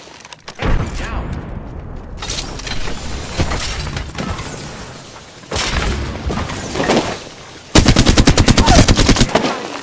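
Machine gun fire in a battle royale video game, loud bursts of rapid shots with booms and a final fast rattling volley, briefly under a voice.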